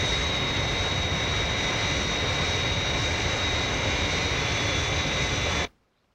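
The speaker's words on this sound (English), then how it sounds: "Scott has made a good takeoff" An aircraft taking off as a Thunderbirds television sound effect, a loud, steady jet roar with a high whine that holds for several seconds, then cuts off abruptly to silence.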